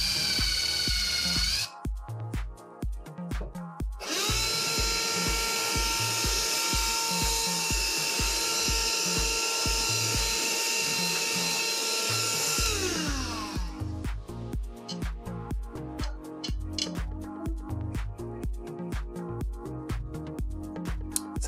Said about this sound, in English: we're gonna need our drill and a countersinking bit